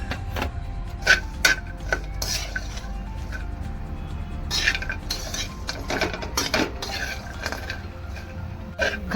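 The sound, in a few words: dry dates being roasted in a pan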